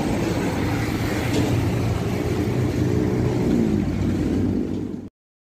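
An Akas Madura bus rumbles past close by, its low engine drone loud and steady for several seconds before cutting off abruptly.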